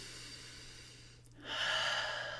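A single deep breath taken in a quiet chakra toning circle, a soft long inhale followed by a louder, airy exhale, close and alone.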